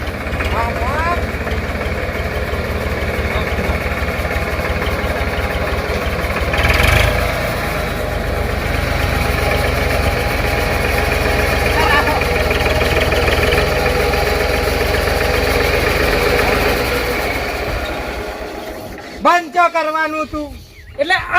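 A tractor engine idles with a continuous low, throbbing rumble close by for a long stretch, with a few brief voices near the end.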